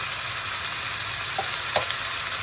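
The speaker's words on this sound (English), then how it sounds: "I'm not going to add any water right now. I'm just going to just fry it this way." Steady sizzling of chicken frying in a pan without water, a constant hiss with a few faint clicks and pops.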